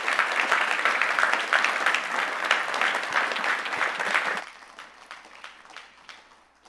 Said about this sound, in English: Please give another big round of applause for our first speaker, Alexandra.